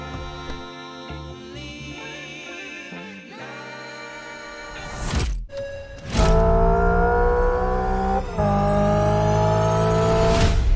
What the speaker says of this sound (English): It's a track-only electric race car designed for the new eN1 racing series.